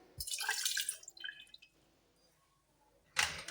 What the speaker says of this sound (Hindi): इसके अंदर हम 1/4 कप सिरका डालेंगे।